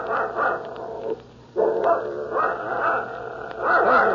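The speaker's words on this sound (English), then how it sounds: "Shut that dog up" In a 1945 radio drama, a dog barks repeatedly in a busy, overlapping way with a brief pause partway through, close and fairly loud against a background of murmuring studio sound.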